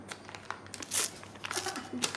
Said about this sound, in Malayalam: കവർ കീറക്കി